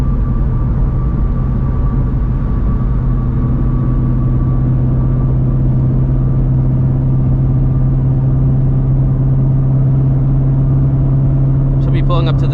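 Procharged Ford Shelby GT350 engine droning steady and loud from inside the car in traffic, a constant low hum running throughout, with a brief rattle near the end.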